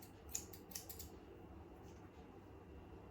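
Scissors trimming the face fur of a Lhasa Apso, a few quick, faint snips close by in a quiet room, followed by low background hush.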